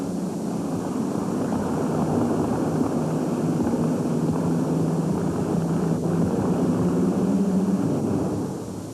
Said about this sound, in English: the twin Allison V12 aircraft engine-powered machine, the Policy Peddler